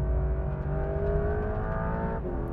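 A Porsche 911 GTS T-hybrid's flat-six engine drones loudly and steadily from inside the car, a sustained rising tone with a brief shift near the end.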